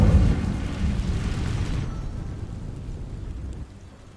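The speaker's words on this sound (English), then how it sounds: "These dry vines are one spark away from becoming kindling. Incendio!" In Hogwarts Legacy, an Incendio fire spell ignites dry vines with a heavy roaring whoosh that starts with a loud burst and then settles into a rumbling, fading crackle of flames.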